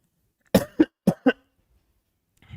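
Four sharp coughs in quick succession, close and fairly loud, followed by a short pause and a faint rustle at the end.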